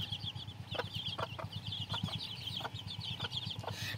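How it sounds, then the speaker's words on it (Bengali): Native desi chickens kept in a small pen cluck in short, scattered bursts with a few higher chirps. A steady low pulsing hum runs beneath them, and the birds sound moderately close with no talk. "আলহামদুলিল্লাহ সবটি মুরগি ঠিক আছে"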